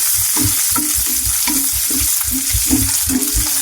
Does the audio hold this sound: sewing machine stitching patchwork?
no